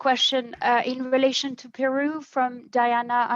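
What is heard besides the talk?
No everyday noise stands out behind the speech.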